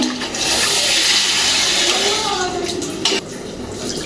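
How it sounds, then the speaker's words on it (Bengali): Water poured into a pot of rohu fish and ash gourd curry, a loud, steady rush of liquid lasting several seconds before tapering off near the end. "আমি ঝোলের পানিটাও দিয়ে দিলাম।"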